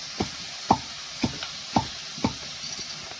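Chandi fish cooking in a pan in a village home kitchen, a faint sizzle under a regular series of about five distinct utensil scrapes and taps, close by.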